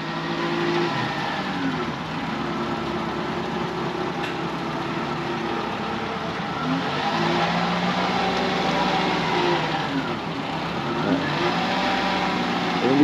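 Mini truck without power steering backing a mini gooseneck trailer, its small engine droning steadily with gentle rises in revs as it creeps along, close and continuous for about thirteen seconds.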